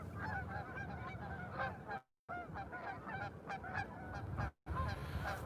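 A flock of geese honks near a house, with loud repeated overlapping calls that keep going almost without pause, broken by two brief silent gaps.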